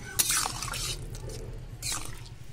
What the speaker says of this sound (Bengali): আমি এবার জল দিয়ে দেবো 1 বাটি, 2 বাটি পরিমাণে জল দিলাম